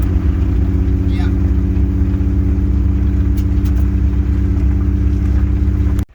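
A Nissan R32 GTR drives with a steady, loud engine drone and rumbling low hum that holds constant for several seconds before cutting off abruptly.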